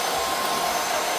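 Close, loud handheld hair dryer blowing hair forward during a medium-length vintage perm styling, a steady unbroken rush of air with a faint whine and no talking.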